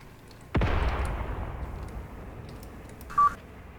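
A single heavy tank gun shot in the Graviteam Tactics war game, one sharp loud boom with a long rumbling decay, followed by a short electronic beep, no talking.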